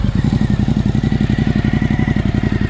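A Suzuki V-Strom 1050DE idles with its aftermarket exhaust baffle removed, giving a deep, loud, evenly pulsing thump close to the pipe.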